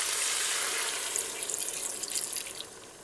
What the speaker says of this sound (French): J'ajoute mes saucisses fumées. Je vais couvrir d'eau.